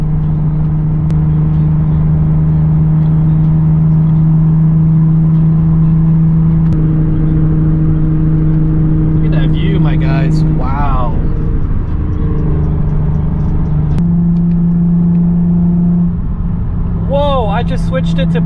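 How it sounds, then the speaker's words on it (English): A Nissan 350Z with a Motordyne exhaust and test pipes cruises in fifth gear, a loud steady low drone filling the cabin with a few gear-change dips and brief whines, heard close up from inside. "I'll let you guys just enjoy the exhaust tone. I'm on 5th gear right now."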